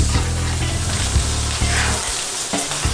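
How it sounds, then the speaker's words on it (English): Butter melting and sizzling in a pan with garlic and herbs, ready for basting halibut: a steady, close frying hiss with scattered pops and crackles throughout, and no talking. "I'm getting some really fantastic aromatics off here as this butter is melting."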